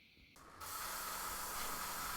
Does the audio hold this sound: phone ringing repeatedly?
no